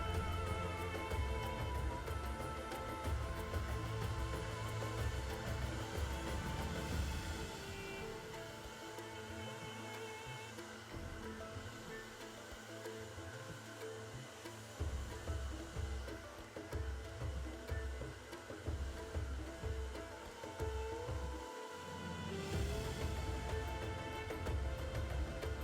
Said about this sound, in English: Stop and blow dry the hairstyle.